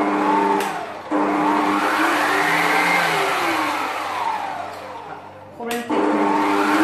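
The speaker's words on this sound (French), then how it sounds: "Je vais fouetter ma crème quelques minutes pour qu'elle monte en chantilly." An electric whisk whips cream into chantilly with a steady, close motor whine that rises and falls in pitch as it works, briefly cutting out twice.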